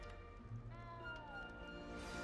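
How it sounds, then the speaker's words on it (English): A cat meows in the Hogwarts Legacy video game, a faint, drawn-out mewing cry with a wavering tone over quiet background ambience. "You don't need to be frightened, little cat."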